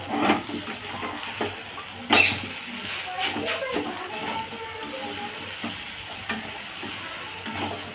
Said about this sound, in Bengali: চাউটা ভেজে নিতে হবে।